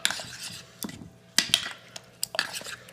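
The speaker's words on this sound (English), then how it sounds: "And now what we're just going to do is just mix this all up." Mayo and sambal sauce being mixed in a bowl, with scattered clinks and scrapes of a utensil against the dish and a few sharper knocks, close and moderately loud with no talking.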